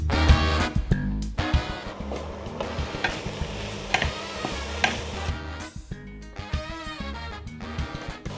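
Carrot poriyal sautéed in a pan, with a busy close sizzle and repeated scraping stir strokes throughout.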